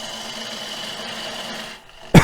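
A lathe tool cuts into a natural edge cedar bowl, giving a steady, close whirring and scraping drone that fades out near the end before a short, loud burst of noise.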